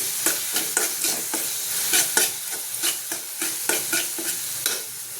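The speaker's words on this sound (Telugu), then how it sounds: "ఈ మిక్సీ జార్లోని వాటర్ వేసుకుని ఇదిగోండి ఇలా కలుపుకోవాలి" A brinjal masala curry, thinned with water from a mixer jar, being stirred in a pan: rhythmic scraping strokes about every half second over a soft sizzle, close and clear, with no talking.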